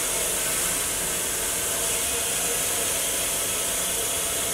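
Freshly cooked rice is drained through a strainer, giving a steady broadband steam hiss with a watery rush that holds evenly throughout, fairly close and alone without voices.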